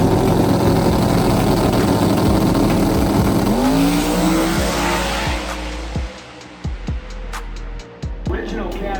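Limited drag radial race cars make a drag strip run at a racing event, their loud engines roaring and rising in pitch before sharply backing off, with crackles and pops after the run.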